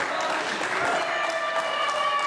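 Crowd at a live independent wrestling event cheering and clapping in a continuous dense roar, with a commentator talking over it.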